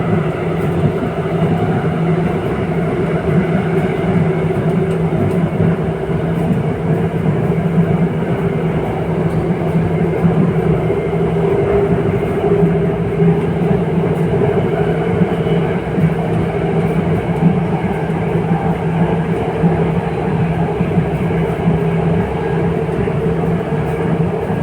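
An RRTS rapid rail train runs steadily at speed, a loud continuous rumble and hum heard from inside the carriage with no break throughout.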